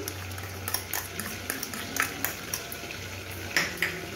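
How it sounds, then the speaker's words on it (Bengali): A spoon stirs salt, turmeric and sugar into sour yogurt in a bowl, giving soft scraping and light clinking taps at an irregular rhythm, quiet and close, with no talking. "এবার আমি টক দইটার সাথে নুন, হলুদ, মিষ্টি এগুলো সব মিশিয়ে দেবো"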